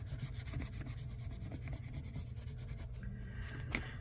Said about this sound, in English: Let's just burnish this piece down here.